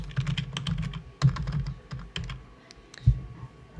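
Computer keyboard being typed on to enter a company tax ID into an online form, irregular bursts of close, crisp key clicks with short pauses between runs and a louder thump near the end.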